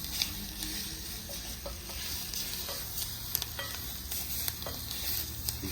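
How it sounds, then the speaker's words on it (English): Browning onions sizzle steadily in a hot pan while being stirred for South African braai burgers, a continuous close crackle with small scraping clicks from the stirring. "Now that our onions are starting to turn nice and brown"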